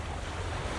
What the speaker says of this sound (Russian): У нас такие волны океана.